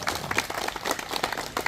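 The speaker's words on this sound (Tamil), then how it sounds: "இதுக்கு இப்படி கைத்தட்டா பத்தவே பத்தாது." An audience at a Tamil public speech bursts into dense, continuous hand clapping, a brisk crackle of many overlapping claps at moderate distance with no talk over it.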